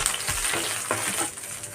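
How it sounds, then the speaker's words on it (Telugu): Sliced green chillies frying in hot oil for an onion masala curry, a steady close sizzle with a few soft stirring scrapes, no voices. "ఇప్పుడు మనం ఇలాగ 4 పచ్చిమిర్చి సన్నగా కట్ చేసుకున్న పచ్చిమిర్చి వేసుకోవాలి"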